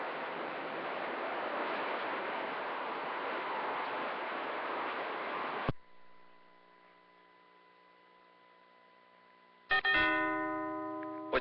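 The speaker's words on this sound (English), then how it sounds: "I'm ringing that doorbell, Moonshiner." A doorbell rings once after a stretch of loud wind-like noise and hum, giving a clear ringing chime with a lingering tone, then a second chime strikes near the end.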